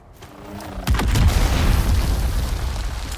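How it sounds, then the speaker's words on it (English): A grenade blows up against a player's base in a survival video game, landing as a heavy booming blast about a second in and then rolling on as a loud, sustained low rumble. "throwing a fucking grenade at my base"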